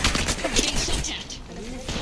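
Bursts of rapid automatic gunfire from the Apex Legends video game crackle close and loud in quick clusters, mixed with game sound effects and brief voice callouts.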